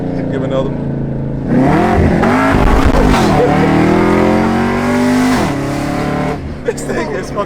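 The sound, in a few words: supercharged Camaro ZL1 exhaust revving, long tube headers, off-road pipes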